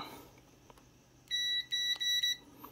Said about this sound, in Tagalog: So continuity test. Tapos sa buzzer mode.